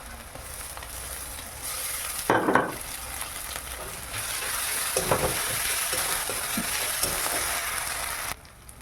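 Chili paste, cumin paste and ginger paste sizzling in a pan for a Bengali chicken curry, a steady hiss of frying broken by a few louder scraping stirs near the middle, close and without any voices.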